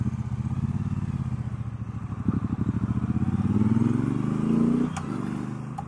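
A 2019 Triumph Bonneville Bobber Black motorcycle rides steadily, its engine note droning and rising gradually as it pulls through the gears, then easing off near the end, heard close and alone.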